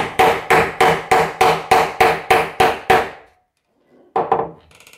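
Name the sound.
hammer tapping a yellow plastic section into a hole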